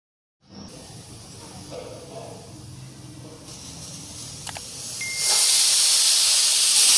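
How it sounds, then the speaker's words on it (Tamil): A steady hiss of venting steam from a pressure cooker cooking horse gram rasam, rising sharply into a loud, bright rushing whistle near the end as it lets off pressure. "ரெண்டு விசில் வந்துருங்க."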